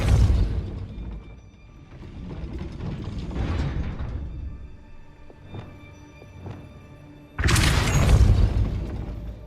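Depulso force-push spell cast at a gate in the video game Hogwarts Legacy: grinding, ratcheting mechanical rumble with creaks and booming swells, ending in a loud, bright burst. No voices.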